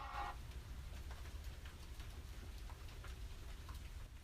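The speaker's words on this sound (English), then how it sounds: "I hope the people could hear the raindrops outside." Rain falling outside, a soft steady patter of raindrops heard faintly and at a distance, continuous and even with no voices over it.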